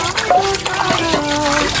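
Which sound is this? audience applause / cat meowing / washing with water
washing with water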